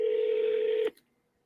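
A single telephone keypad tone rings out loud and clear for under a second, then stops sharply into silence.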